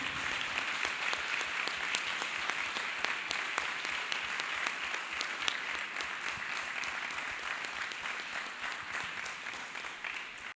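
A church congregation claps hands together in praise, a brisk, continuous patter of many hands with sharp individual claps poking through, heard at a moderate distance and holding an even level throughout.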